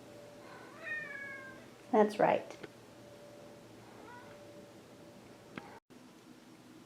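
A pet cat gives a couple of short meows, one brief and one louder and closer, while someone talks quietly in a room.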